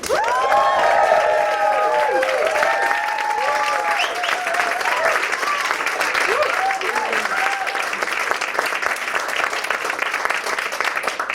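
A stand-up comedy crowd claps and cheers to welcome a comedian, with whoops and excited shouts riding over sustained dense applause that stays loud and steady throughout.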